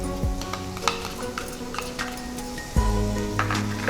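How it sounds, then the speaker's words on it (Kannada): Tomatoes frying in a pan while being stirred for avarekalu palya, a steady close sizzle with scraping stir strokes and soft clinks throughout, no talking. "ಸ್ವಲ್ಪ ಫ್ರೈ ಮಾಡಿಸ್ಕೊಳ್ಬೇಕು ಇದನ್ನು ಕೂಡ"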